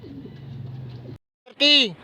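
Racing pigeons released in Porac, Pampanga, with a steady low hum, then a short silence before one loud, close call rising in a sweep, while people speak nearby.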